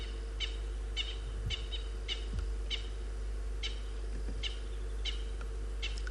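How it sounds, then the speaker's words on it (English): Natal francolins call during a morning safari in the South African bush, sending out repeated harsh, scratchy bursts at irregular intervals from a moderate distance over a steady low hum. "We're hearing the Natal francolins also making their sound on the background."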